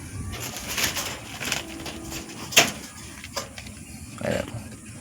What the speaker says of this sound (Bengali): আচ্ছা এখানে এই পায়রাটা আছে।